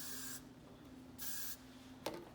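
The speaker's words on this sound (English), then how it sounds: "We're gonna respray it to make sure everything stays where it needs to." Hairspray is sprayed onto a ponytail in two short, close aerosol hisses, followed by a faint click, in an otherwise quiet room.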